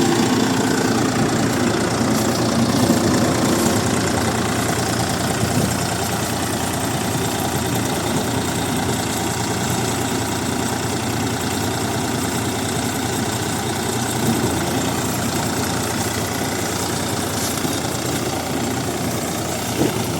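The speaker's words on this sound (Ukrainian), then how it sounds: "Тихенько крутить той комбайн і все." A combine harvester threshing pumpkins for seed runs steadily throughout, its engine droning and knocking in a continuous, loud, unbroken rumble with a mechanical vibration and no talk.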